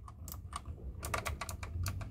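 Keys clatter on a GamePower Starscream 60% optical RGB mechanical gaming keyboard: a quick, irregular run of close, crisp clicks, like typing, with no speech.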